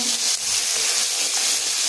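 Steady, bright sizzling of fish frying in hot oil, continuous and close, with no voices.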